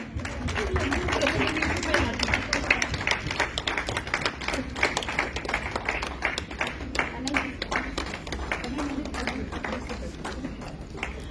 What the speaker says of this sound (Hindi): जोरदार तालियों से स्वागत कीजिए हमारे अतिथियों का।